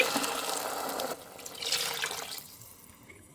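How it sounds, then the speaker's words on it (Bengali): Water splashes into a pan of okra and shrimp curry in a short burst, stops, then trickles in again more softly before falling quiet. "এবার পানি দিয়ে দিচ্ছি"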